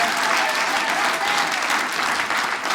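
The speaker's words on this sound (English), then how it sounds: "Give yourselves a round of applause." A comedy show audience bursts into steady, loud, dense applause that fills the room and holds without a break.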